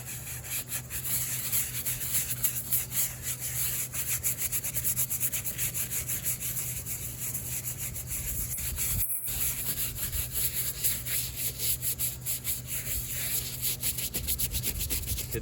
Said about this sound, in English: So there's one boot scrubbed, scrub the other.